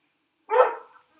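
A single short burst of dog barking sounds from a home, slightly away from the listener and alone over a quiet background, fading within about half a second.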